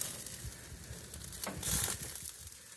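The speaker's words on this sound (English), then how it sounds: "with the fat dripping off them, you can see they're starting to cook" Wagyu burger patties cook with fat dripping, giving a soft, low sizzle with a brief louder crackling burst in the middle.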